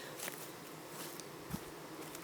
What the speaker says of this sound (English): My bees do not like it, and they start fanning. They do not sound happy.